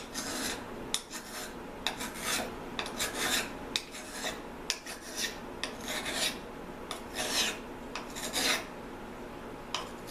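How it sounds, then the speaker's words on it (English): Rasping strokes of a tool blade edge rubbed in one direction to sharpen it, repeated scraping passes in an irregular rhythm, close and fairly quiet, with no voices. "with the blade firmly I'm just going to rub across the edge in one direction."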